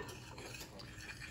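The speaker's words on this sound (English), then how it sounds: "All right, so I'm stirring my flour." A spoon stirring flour and baking soda in a bowl, a brief soft scraping and rubbing, faint and close with no voices.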